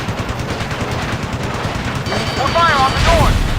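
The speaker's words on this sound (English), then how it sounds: "We're taking heavy fire." Heavy gunfire in the combat game Ace Combat Assault Horizon, a dense rattling barrage over a rumbling background, with a shouting voice cutting in near the end.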